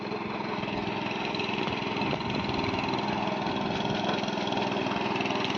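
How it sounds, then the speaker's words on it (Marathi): A steady, loud tractor engine drones without a break in a Konkan paddy field, a constant mechanical rumble running nearby. "इकडे ओमकार ट्रॅक्टर फिरवता"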